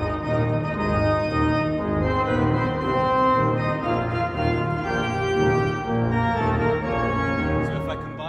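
Pipe organ playing the trombone part of America, a dense, sustained chordal texture with strong low reed-like tones, loud and steady throughout with no talk.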